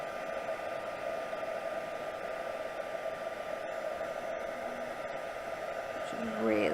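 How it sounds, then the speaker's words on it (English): A heat tool blows steadily over texture paste, a constant whirring rush of air that stays level throughout, with a brief voice or sound change near the end. "Just really giving that a good blast of heat to set that"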